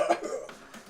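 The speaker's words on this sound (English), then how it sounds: "You begin to cough up a bit more" A short cough, one or two quick rough bursts close to the listener, comes up from lungs still irritated by gas.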